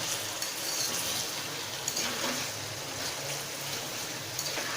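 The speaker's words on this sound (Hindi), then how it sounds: "ये देखिए, मैं इस तरह से इसको अच्छी तरह से मिक्स कर रही हूँ।" Chicken karahi stirred and mixed in a pan, a steady close sizzle of frying with soft scraping under it. No talk is heard.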